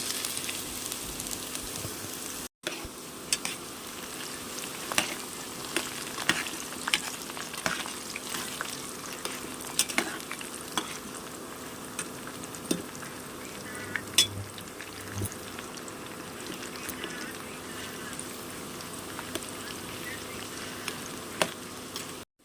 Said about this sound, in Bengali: তেল গরম হয়ে গেছে, এখন আমি আলুগুলো দিয়ে দেবো